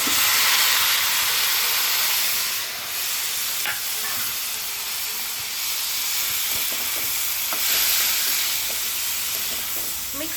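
Tomatoes fry with onions in a pan for a colourful vegetable bhaji, putting out a loud, steady hiss of sizzling oil with occasional scraping stirs underneath, close and continuous.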